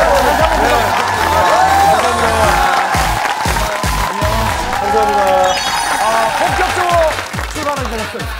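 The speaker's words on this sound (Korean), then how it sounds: "박수 한번 보내드리죠." Studio audience on the Korean talk show Strong Heart claps and cheers loudly and continuously, with whoops mixed in while several people keep talking over the noise.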